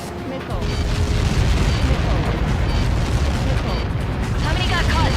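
A massive explosion in the Ace Combat 7 combat flight game booms on as a sustained, loud rumbling blast, with radio-style voices and crackling effects layered over it.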